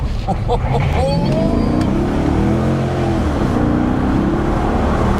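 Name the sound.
straight-piped car engine running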